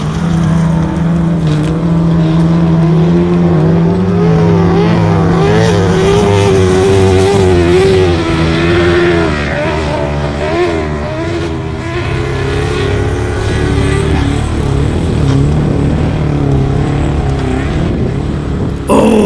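Autograss race cars at a grass-track meeting in Central Scotland, loud throaty engines revving and wavering in pitch as they race, a dense continuous roar with rising and falling whines.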